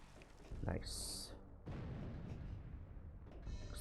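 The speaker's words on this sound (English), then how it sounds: "Explosions." Muffled booms and rumbling blasts from Castlevania 64 roll out over a couple of seconds, with a bright high tone overhead, followed by a steady low roar; fairly faint and distant in the mix.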